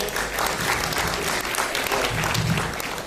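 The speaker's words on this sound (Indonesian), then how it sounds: "Tepat, kita kasih tepuk tangan dulu, oke?" Dense audience applause fills a seminar hall at a Prudential event in Indonesia, loud and sustained from start to end, with crowd noise mixed in and no clear talk.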